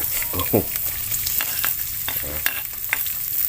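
Chili and garlic dropped into hot oil in a pan, giving a loud, dense, continuous sizzle with crackling spikes and stirring scrapes, up close and without talk.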